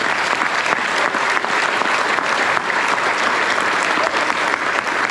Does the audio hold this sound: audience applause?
yes